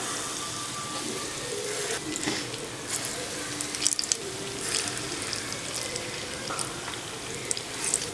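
Banana and wheat-flour bonda batter fries in hot oil with a steady, dense sizzle and bubbling hiss, close and continuous, with faint clinks over it.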